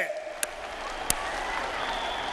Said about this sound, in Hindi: इन चीतों के सम्मान में ताली बजाइए।